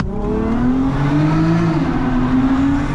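2016 Infiniti Q50S AWD, 364 hp, revving on a downshift into first gear, a loud, close engine note that climbs and holds a rising, buzzy tone before easing back slightly, with no talk over it.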